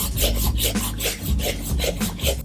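A Jason Markk shoe cleaner brush scrubs a sneaker in quick back-and-forth strokes, a close, rhythmic bristly rasping of about six strokes, with no voices.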